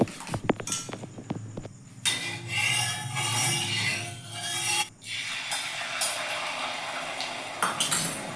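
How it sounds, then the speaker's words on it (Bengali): An egg being beaten in a bowl for an egg roll, a few quick utensil clinks against the bowl followed by a sustained scraping, whisking rub, close and moderately loud. "নিয়ে একটা ডিম ফেটিয়ে নিচ্ছি ভালো করে"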